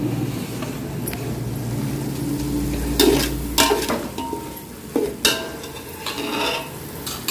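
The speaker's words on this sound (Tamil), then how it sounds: "நல்லா வதக்கு." Biryani masala with chili powder, lemon juice, garlic and salt sautés in a pan, giving a continuous sizzle with repeated scraping and clinking as a metal spatula stirs and knocks against the pan, close and loud.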